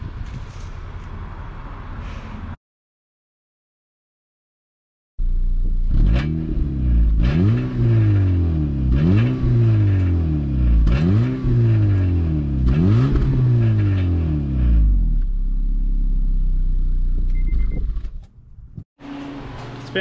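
An abandoned Honda Civic engine with its exhaust not yet welded and a slight exhaust leak is revved repeatedly after a short pause, giving about six rising-and-falling revs close by, then settling toward idle.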